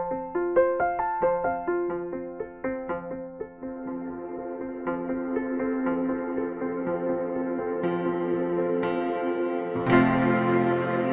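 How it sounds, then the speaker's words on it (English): Piano notes play a slow melodic line through a prepared piano plugin with custom convolution reverb, the tones blurring into a long washy reverberant tail that swells and thickens toward the end. "The extra wet knob introduces a layer of custom convolution reverb"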